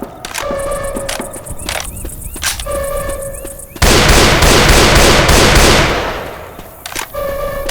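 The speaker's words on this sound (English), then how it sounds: "Left 4 Dead 2 also features a variety of pistols, including a custom civilian handgun, a standard issue police sidearm, and a large caliber magnum" Gunfire from pistols in the zombie shooter Left 4 Dead 2, a civilian handgun, police sidearm or large caliber magnum, as a dense loud burst of shots for about two seconds, with game music and tonal effects before and after.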